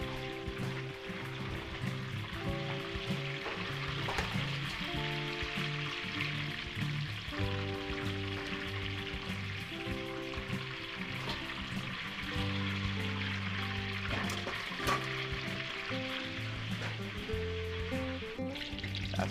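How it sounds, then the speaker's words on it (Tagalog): Steady, dense sizzling of potatoes and carrots frying in hot oil, continuous crackle and spatter throughout with no voices, moderately quiet and close. "Prito po tayo dito ng patatas and carrots."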